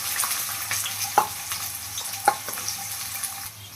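Chopped onion, dried chili and five-spice seeds fry in a pan for a North Bengal data chorchori: a steady, soft close sizzle with a few sharp pops and spits rising above it.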